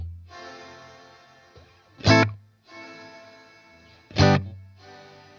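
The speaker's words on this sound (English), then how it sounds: "There's the reverb." Electric guitar runs through reverb with the pre-delay turned right up, so each sharp plucked note is followed after a clear gap by a washy reverb tail; two notes, each with its delayed swell.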